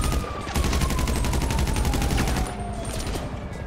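Rapid automatic gunfire in GTA 5, a steady, fast machine-gun rattle of evenly spaced shots, loud and close, easing slightly near the end, with no talking.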